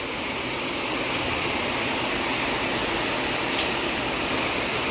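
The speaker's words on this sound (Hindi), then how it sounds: "कितनी तेज़ बारिश हो रही है" Heavy rain pours outside during a downpour, a steady, dense hiss of falling water that stays even and unbroken throughout, with no talking.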